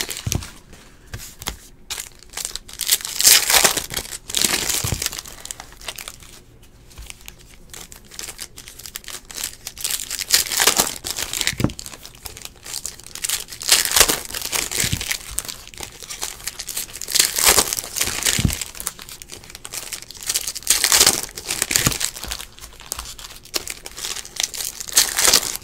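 Foil wrappers of 2017-18 Panini Essentials basketball card packs crinkle and tear in repeated bursts, close and loud, with short quiet gaps between each pack being ripped open.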